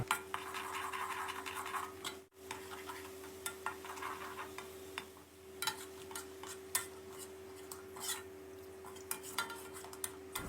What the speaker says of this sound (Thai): กระเทียมจีนซอย 50 กรัม เจียวกระเทียมของเราให้สุกเหลืองกรอบเหมือนกันเลยนะครับ